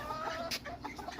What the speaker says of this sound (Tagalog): Ito pala, pag Chinese silk chicken, parang balbon yung itsura niya na manok.